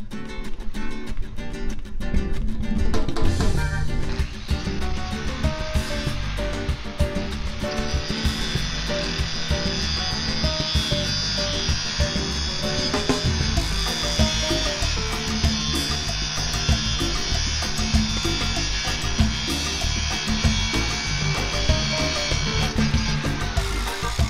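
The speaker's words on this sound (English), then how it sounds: "the very best tool to use for this is actually your angle grinder, if you've got one. And an angle grinder with a ceramics blade." An angle grinder fitted with a ceramics blade cuts into a conch shell, a loud, sustained high-pitched whine and grinding screech that runs continuously up close without any talking.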